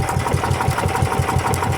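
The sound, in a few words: service boat engine running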